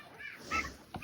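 Turkeys honking and gobbling as they are let out of their pen on a small farm, a few short nasal calls at close range, with a louder burst near the end.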